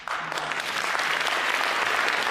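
Dense, even applause from a large audience, a continuous wash of clapping heard from a distance with no speech over it.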